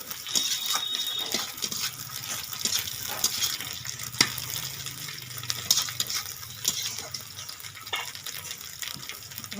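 Singi fish curry is stirred in a pan, a continuous wet frying sizzle with soft scraping and occasional spoon knocks, close and steady with no voices.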